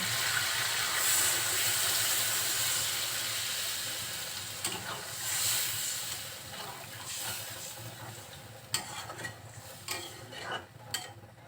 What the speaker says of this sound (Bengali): এখন এর ভিতরে আমি কিছুটা ঝোলের পানি দিয়ে দিচ্ছি